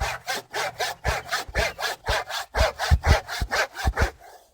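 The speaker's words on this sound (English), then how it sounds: "trying to do this like this with a crosscut saw is a bit of a pain" A hand crosscut saw cuts a timber tenon in about a dozen quick, even back-and-forth strokes, rasping and close, with no voices.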